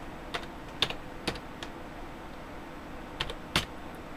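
Sparse typing on a computer keyboard: a handful of crisp, close key clicks in two short bursts separated by quiet pauses.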